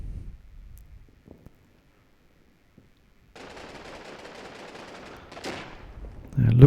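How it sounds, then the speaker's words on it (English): Rapid machine-gun fire erupts in a World War II tactical war video game after a quiet stretch, a dense, moderately loud burst lasting about two seconds, followed by a sharper shot and a rumble. "Gunfire's erupted."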